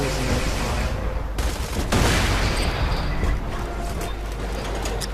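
Rapid, loud gunfire from the Borderlands 2 shooter game, a dense fusillade of bursts with a sharp surge partway through, then continuing rattling shots and clanking effects.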